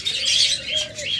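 Doves at a large bird farm give a brief burst of chirps and coos, with wing flutter and other birds mixed in, close and fairly loud.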